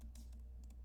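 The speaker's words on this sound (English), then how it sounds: "we are going to type out some text." Faint, quick clicks of a few keystrokes on a computer keyboard while typing code, heard close for under a second.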